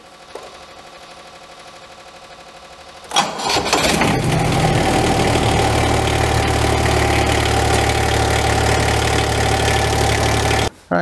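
Cold Kubota D722 diesel engine in a chilly garage cranking briefly, then catching and settling into a loud, steady close-up idle that runs for several seconds before cutting off.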